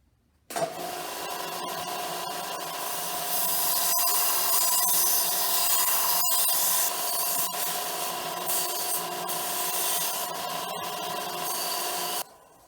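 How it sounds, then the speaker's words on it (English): Belt sander grinding a point onto a piece of wood, a loud continuous abrasive whir that starts abruptly, holds steady with a few scraping catches, and cuts off near the end. "So I'm going to use my belt sander."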